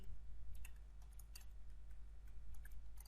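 Rapid, uneven keystrokes on a computer keyboard, quiet and close, over a steady low hum while links are typed into an HTML file, with no talking.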